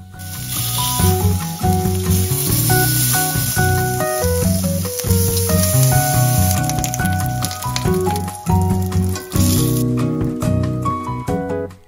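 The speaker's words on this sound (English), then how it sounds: "I make sure all sides are seared, adding depth and flavor." Pork belly searing in a pot, a loud steady sizzle and crackle with faint tonal sounds beneath and occasional louder pops.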